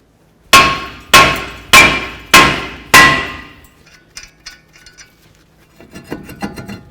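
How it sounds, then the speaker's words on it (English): Five loud, evenly spaced hammer blows ring out against a seized brake rotor on a Ford Fusion, each a sharp metallic clang with a short decay, followed by quieter clinks and handling noises. "we're going to hit right along this area here just to cause some vibration and break this free"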